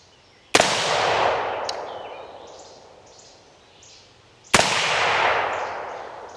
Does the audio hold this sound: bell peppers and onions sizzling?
no